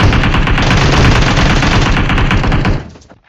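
Sustained automatic weapon fire rattles loud and close during a battle royale game gunfight, a dense rapid burst lasting nearly three seconds before cutting off and fading into quiet.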